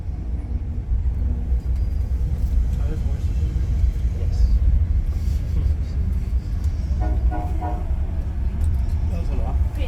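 A Norfolk Southern train rumbles past on adjacent tracks beside a passenger excursion train near Jim Thorpe, a steady loud roar with rattling throughout and people talking over it.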